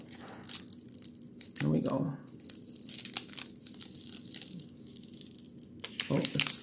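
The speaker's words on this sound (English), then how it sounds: "You roll it off slowly so that the adhesive stays on the foil." Adhesive foil being peeled slowly off its backing sheet during stained glass work, with crinkly tearing bursts near the start and again at the end over a quiet room, as a voice talks in between.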